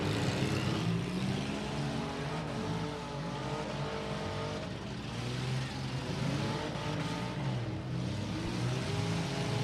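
Figure-8 race cars competing at Rapid Speedway in Lyon County produce a continuous layered engine drone, with several cars revving and passing at mid distance throughout.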